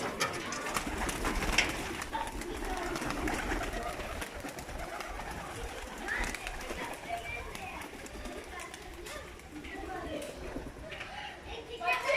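Pigeons coo and flutter close by as they are let out of a rooftop loft, soft repeated coos under steady outdoor background noise, with someone talking over them.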